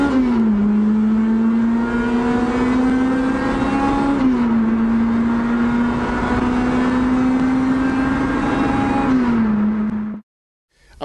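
Street racing cars accelerate hard, a loud close engine drone holding a steady pitch with a brief shift dip midway and another dip near the end, followed by an abrupt cutoff into silence.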